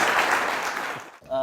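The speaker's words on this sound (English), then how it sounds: "Always clap for God." Audience clapping at a live performance, a dense steady wash of applause that fades out near the end before a voice starts speaking.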